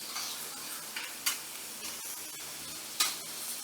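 Cheesesteak meat frying in a pan as it is separated and stirred, a soft sizzle with scraping utensil strokes and two sharp metallic taps on the pan.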